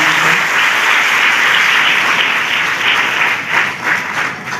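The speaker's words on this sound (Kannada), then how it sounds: "ಸಹೋದರಿ ಜೋರಾಗಿ ಚಪ್ಪಾಳೆ ಮುಖಾಂತರ" Loud applause from a hall audience at an International Women's Day event, thanking a woman who sang the opening prayer, dense sustained clapping close up that swells slightly toward the end.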